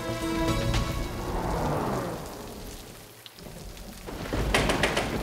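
Heavy monsoon-style rain pours down with rolling thunder, a loud continuous downpour swelling and easing, with thunder rumbling beneath it and no voices.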